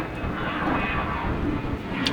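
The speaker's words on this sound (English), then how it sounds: "Man, these airplanes are loud." An airplane flies overhead, making a loud continuous broadband roar that holds steady with no talking over it.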